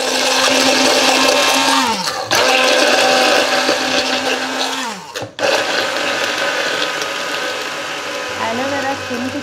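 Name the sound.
mixer grinder jar blending coconut oil and aloe vera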